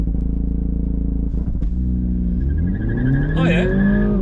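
A car engine roars and revs, then pitch climbs steadily as it accelerates hard; a voice briefly speaks near the end.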